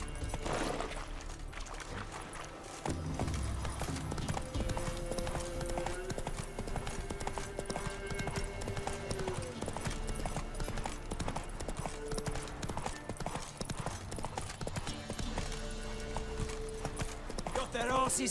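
Roach, a horse in The Witcher 3 video game, gallops with steady rhythmic clip-clop hoofbeats over game music, with a voice talking at times.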